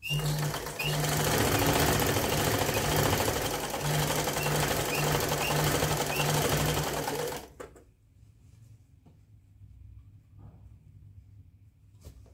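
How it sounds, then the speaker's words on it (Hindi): An electric sewing machine runs continuously for about seven seconds while stitching palazzo pants, a loud steady whirring hum that abruptly stops, leaving quiet room tone. "तो हम आसन की तरफ से सिलाई लगाएंगे।"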